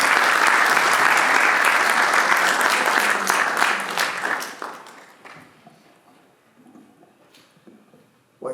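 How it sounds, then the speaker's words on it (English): An audience at a Sikh community centre in Yuba City applauds to welcome a keynote speaker, with loud, dense clapping for about four seconds that thins out and fades to scattered claps and quiet room noise. "please welcome with a round of applause."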